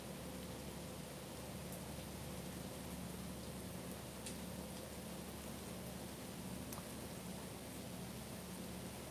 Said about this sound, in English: So sorry it's raining.